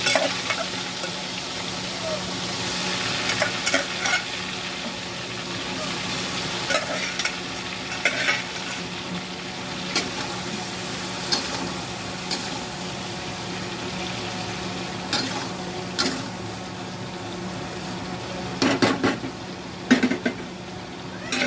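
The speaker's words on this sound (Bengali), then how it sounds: "চিংড়ি মাছগুলো ভেজে নেব লাল লাল করে" Oil sizzles and crackles steadily as prawns fry in a pan, with frequent scraping stirs and occasional clinks of a utensil.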